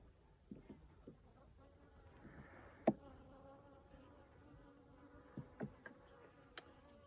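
Honey bees buzzing around a swarm trap, a faint, soft drone with a few closer passes, heard quietly outdoors.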